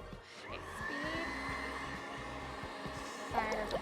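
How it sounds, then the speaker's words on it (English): Electric stand mixer whisking meringue at high speed in a home kitchen, a steady loud whirring drone with a rhythmic beating of the whisk in the bowl, continuous and close. "The whisk has to be going at high speed."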